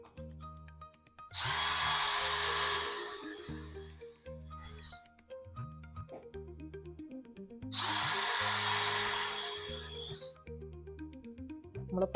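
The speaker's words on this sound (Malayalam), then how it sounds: "അതുകൊണ്ട് നമ്മൾ ആദ്യം പൈലറ്റ് ഹോൾ ഇട്ട് കൊടുത്തിട്ട് അവിടെ ഇനി ആണി അടിക്കണുള്ളൂ." An electric drill bores a pilot hole in wood for a nail while building an angled garden trellis for clematis, with two loud, close bursts of drilling of a few seconds each between quieter stretches and background music.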